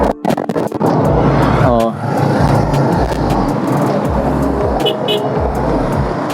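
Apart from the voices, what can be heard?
heavy road traffic heard while driving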